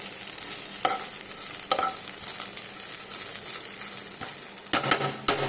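Jute leaves (pat shak) stir-frying in a pan, with a steady low sizzle broken by a few sharp scraping stirs and clatters near the end, no voices.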